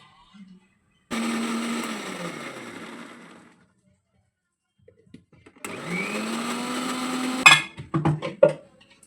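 A mixer grinder whirs loudly for a couple of seconds, stops, then runs again with rattling and clunks as it grinds a thick ginger-garlic paste.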